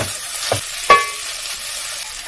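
A spoon stirs lentil soup in a pot, giving a few short scraping clanks against the metal, one with a brief ringing tone, over a faint steady simmer, with no talk.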